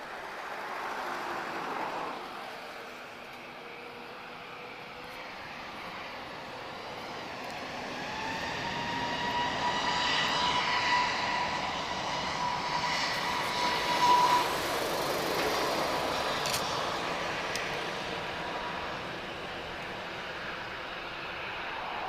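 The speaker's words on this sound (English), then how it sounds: "next departure is TAP TP215. This is A321. This is a long range Neo." A TAP Air Portugal Airbus A321neo long-range jet departs Lisbon Airport for Boston, its engine roar swelling steadily from far to moderately loud over about twenty seconds, then holding a broad rumbling whine, alone without voices.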